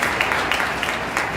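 A crowd claps at a youth hockey game, producing a brief, dense burst of applause with individual claps audible.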